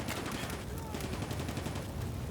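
Gunfire in the Combat Mission WWII wargame, Barbarossa to Berlin with the Totenkopf division: dense, continuous crackle of rifle and machine-gun fire with mortar rumble underneath, steady and loud throughout.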